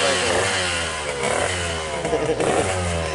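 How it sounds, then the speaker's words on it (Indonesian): A Yamaha RX King motorcycle engine runs loud and close, a steady buzzing idle that turns rougher and uneven with small revs toward the end. "Oke, kita untuk mendengarkan mesin yang satunya lagi"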